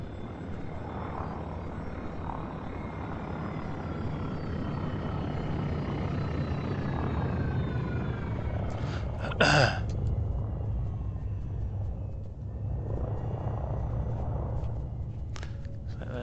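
A video game spaceship flies in with its landing gear lowered, a steady droning engine hum with a faint rising whine and a short sharp mechanical clunk midway, no talking.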